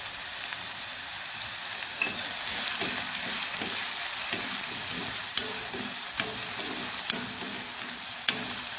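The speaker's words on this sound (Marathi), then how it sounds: "छान मीठ टाकून आपण परतून घेणार आहोत त्यामुळे हा कंदा पटकन सॉफ्ट होतो" Onion sautéing with salt in a pan for a Konkani-style dried fish chutney, a continuous close sizzle with occasional stirring clicks and scrapes throughout.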